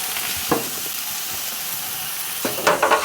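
Ham steaks sizzle and hiss steadily in a frying pan, with a couple of louder crackling bursts as they are flipped, close and without talk.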